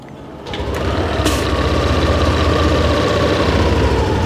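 A Yamaha Aerox 155 scooter engine starts up and settles into a steady, close idle, a continuous low rumble with no voices.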